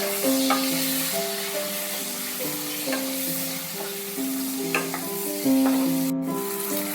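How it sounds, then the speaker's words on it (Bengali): Chopped onions, two medium ones, fry in a pan while being stirred, a steady close sizzle with scraping strokes, heard alongside bright tonal background music and no talking. "পেঁয়াজটা কিন্তু এইভাবে একটু ভেজে নিতে হবে"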